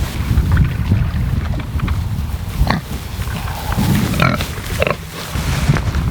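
Pigs on a homestead grunt and snuffle close by during feeding, short irregular grunts scattered over a windy outdoor background with some handling noise.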